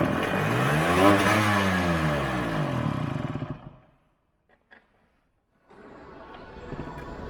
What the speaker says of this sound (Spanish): Primera vez que arranqué la moto, sin tanque todavía